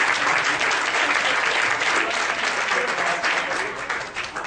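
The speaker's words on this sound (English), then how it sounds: "I'll just give Adam a round of applause." An audience gives a presenter a round of applause, a dense wash of clapping hands at steady volume that thins slightly toward the end.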